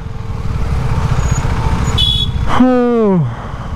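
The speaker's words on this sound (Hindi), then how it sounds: "हाँ, उसके साथ साथ ये ट्रैफिक भी ज़रूर मिलता है।" Busy road traffic in an Indian bike market area, a steady rumble of engines and motorcycles with a loud horn blast near the end, under someone talking.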